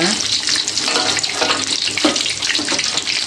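Stuffed tofu filled with vegetables fries in hot oil, giving a steady, dense sizzle and crackle that carries on without a break.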